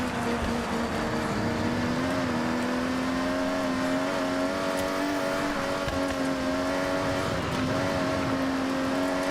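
Race car engine in Forza Horizon 6 holds a steady high drone with the throttle pulsed, loud and continuous the whole time with no talking.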